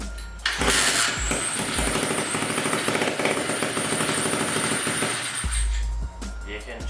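A Thumpstar pit bike engine fires up and runs loud and close for several seconds with a raspy, throbbing exhaust note, then cuts off.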